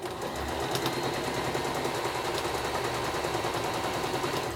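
A sewing machine stitching fabric runs with a steady, rapid mechanical rattle, close and continuous, with no voices over it.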